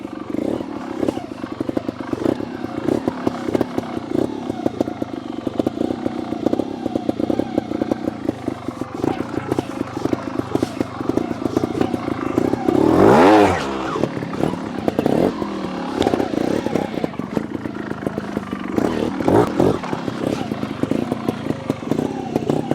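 A Sherco SHT 300 trials motorcycle from the 2022 factory range rides in second gear down a steep roll, its engine drone steady and close throughout with a brief louder rev burst partway, while a rider talks over it.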